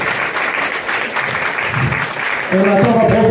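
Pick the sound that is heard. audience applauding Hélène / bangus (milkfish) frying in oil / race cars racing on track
audience applauding Hélène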